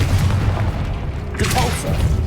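A Confringo blast spell erupts in Hogwarts Legacy as a loud, deep, rumbling boom that swells and holds for about two seconds, with a brighter crackling burst near the end.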